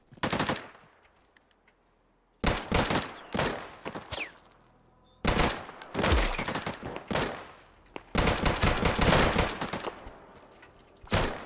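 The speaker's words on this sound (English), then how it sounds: "I hear gunshots and they're shooting" Bursts of automatic gunfire and rapid single shots in the survival shooter Deadside, loud and close, arriving in several separate volleys with short quiet gaps between them.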